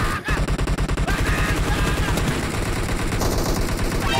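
Rapid automatic gunfire in the PUBG Mobile battle royale game, a loud, fast burst of shots followed by continuous heavy firing and impacts, with voices faintly mixed in.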